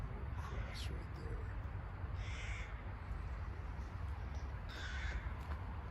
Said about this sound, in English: Love the sounds of the crows.